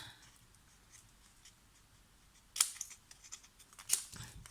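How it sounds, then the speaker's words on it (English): Paper trimmed with scissors for a handmade scrapbook page, two short crisp snips standing out against faint room quiet. "I'm going to trim this."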